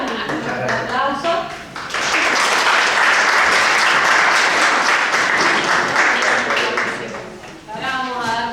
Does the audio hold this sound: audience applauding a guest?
yes